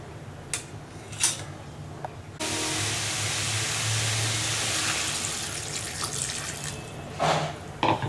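Water pours steadily in a continuous splashing stream for several seconds into a cooking pot of yellow pumpkin curry, close by, with brief clinks of the pot before and after.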